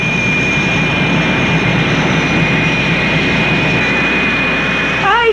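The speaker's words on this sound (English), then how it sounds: "Plane coming in there is piloted by my good friend, Lieutenant Dave Walsh." A fixed-wing airplane comes in to land, its jet-like engine roar loud and steady throughout with a high whine riding on top, nearby and alone without talk.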